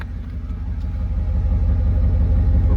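A 2008 Lincoln Navigator with an automatic transmission runs at a steady idle, with a deep, even low rumble that grows slightly louder, close by and with no talking over it.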